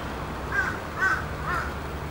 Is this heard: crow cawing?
yes